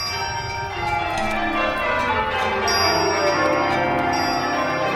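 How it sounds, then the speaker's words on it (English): Many bells of a town ringing together in an audio drama of A Christmas Carol, a dense, continuous clangor of overlapping tones and shimmering overtones held loud throughout, with no talk. "The bells ceased as they had begun, together."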